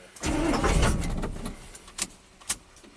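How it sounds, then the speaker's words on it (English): An '87 GMC V8 plow truck engine cranks loudly for just over a second without catching, then falls quiet apart from two sharp clicks close by. "now it's a kind of a crank no start"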